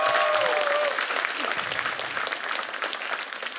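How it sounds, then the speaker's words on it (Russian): Studio audience on a Ukrainian stand-up comedy show bursts into loud, sustained applause that fills the whole stretch, with brief whistles near the start and a slow taper toward the end. "Ваши аплодисменты, друзья"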